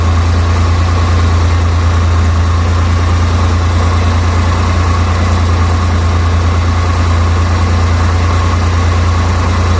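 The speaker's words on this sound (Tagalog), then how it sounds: "nagmamainit yung ating makina" A Multicab's carburetted engine warms up at idle after a cold start, with a deep, even hum and constant vibration, loud and close, with no talking.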